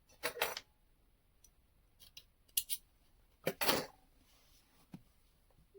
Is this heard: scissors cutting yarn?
yes